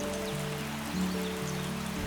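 Rain falls during a backwater boat trip between Kottayam and Alappuzha, a constant hiss of drops over a low, steady droning hum, with no voices.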